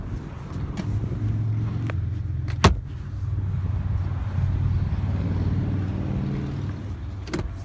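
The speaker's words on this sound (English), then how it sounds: "Front electric windows." Front electric windows of a car whirring up and down in a quiet cabin, a steady motor hum with a sharp click partway through and another near the end.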